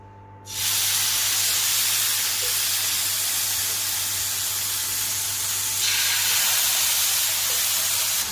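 Chich taouk chicken skewers on a hot plancha, a loud, steady, broad sizzle that starts abruptly and holds for the rest of the clip with no talk.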